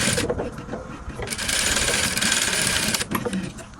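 A sewing machine runs in a steady, close, loud mechanical buzz of rapid stitches while sewing fabric for a ballroom dance dress, pausing briefly near the start and end.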